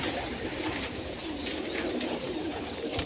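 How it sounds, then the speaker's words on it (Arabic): Soft, repeated cooing and squeaky calls from young pigeons on a pigeon farm, close by and continuous over a low background hum. "صوت الزغاليل"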